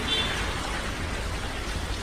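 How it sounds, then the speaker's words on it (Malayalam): Steady rain hissing and pattering on surfaces, moderate in level and unbroken throughout. "നമ്മളിവിടെ കാണുന്നത് മഴയും ഇട്ട് നല്ല കുളിരുമായിട്ടാണ്"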